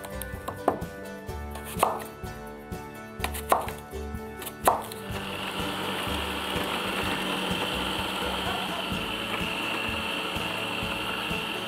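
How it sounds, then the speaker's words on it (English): Apple chunks are chopped in a food processor, first in several short, loud motor pulses with clattering blades, then in one continuous whirring run of the machine. "We cut the apples into chunks and then place them in the food processor."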